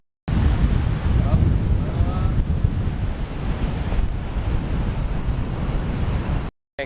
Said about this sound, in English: What we got here, guys, is a massive storm system coming through.